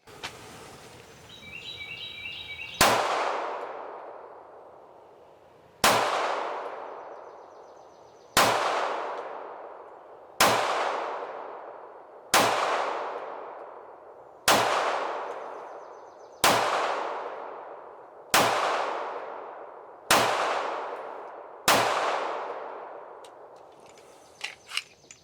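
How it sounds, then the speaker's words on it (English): A new pistol, similar to 226 models, fires ten sharp shots at a steady pace of roughly two-second intervals, each crack followed by a ringing decay, with a faint electronic beep before the first shot. "First shots of a new gun."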